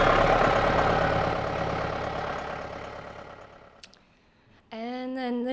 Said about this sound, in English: she drives a tractor.